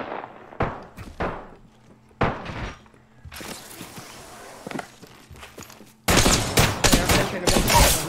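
Gunfire in the Apex Legends video game, with short separate shots at first, then bursts of fire and a loud, dense volley at the end, mixed with thuds and footsteps.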